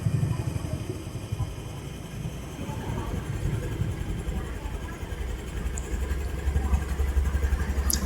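A Honda Activa E20 scooter engine runs close by with a steady mid-pitched drone that swells as it is revved, settling and then rising again toward the end.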